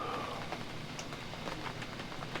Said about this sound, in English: how's the first rain?